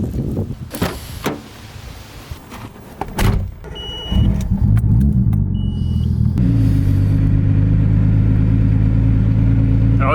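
A Mazda RX-7 FC with right-hand drive: a door thump and brief interior mechanical noises, then the engine starts and settles into a loud, steady rumbling idle and drive close by, with no talking.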